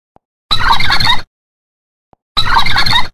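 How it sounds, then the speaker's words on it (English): Two loud, rapid turkey gobbles, each under a second long, separated by a short silent pause. "Turkey."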